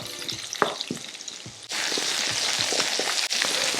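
Shallots fry in butter and oil in a pan with crackling pops, then a louder, denser sizzle suddenly takes over midway and continues steadily.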